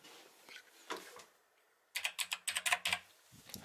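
Keys clatter on a computer keyboard in a quick burst of close, crisp taps after a quieter stretch of faint handling noise.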